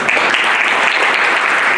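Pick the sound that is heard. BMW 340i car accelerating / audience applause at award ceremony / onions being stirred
audience applause at award ceremony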